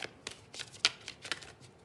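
Tarot cards shuffled by hand in several quick riffling bursts, close and crisp, with short pauses between them and no talk.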